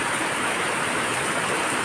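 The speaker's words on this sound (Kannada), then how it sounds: "ಸಾಧಾರಣದಿಂದ ಧಾರಾಕಾರದತ್ತ ಮಳೆ, ತುಂತುರು ಹೋಗಿ ಭಾರೀ ಗಾತ್ರದ" Heavy monsoon rain pours down in Mangaluru as a dense, constant hiss and patter, a steady, even wash of falling water with no voices.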